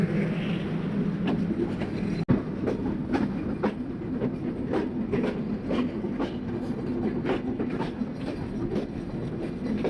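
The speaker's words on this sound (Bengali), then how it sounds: "এসে পেয়ে গেছি চিত্রা এক্সপ্রেস" Chitra Express passenger train rolling along the rails, with a loud, close, steady clickety-clack of wheels over the joints and a sharp single knock early on; no voices.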